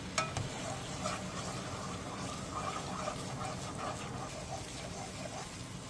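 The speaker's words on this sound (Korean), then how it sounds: "팬에 기름 1스푼을 두른 뒤 양념장을 넣고 중약불에서 자글자글 끓여주세요." Soy-based seasoning sauce bubbling in a spoonful of oil in a pan over medium-low heat, a steady close crackling sizzle with fine popping running evenly throughout, no voices.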